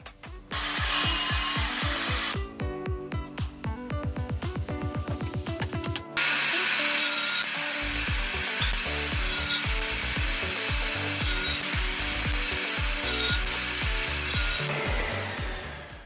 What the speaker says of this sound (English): I can add my stop block to my sled as I did earlier, and then cut everything to the lengths